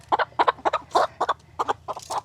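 Hybrid egg-laying hens clucking in a steady run of short, close calls, about a dozen bursts over a couple of seconds, with a faint low hum underneath.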